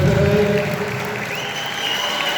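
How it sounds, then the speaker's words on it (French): A crowd applauds the players at a girls' under-15 volleyball final, a steady wash of clapping that fades a little partway through. "on applaudit les athlètes, on applaudit nos athlètes préférés"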